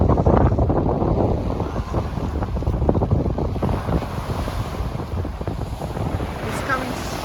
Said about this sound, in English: The sun is going down and the cold wind is just horrible.